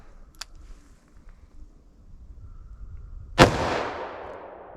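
.357 Magnum snub-nose revolver fired once single action, a single sharp loud crack with a fading tail after a faint click.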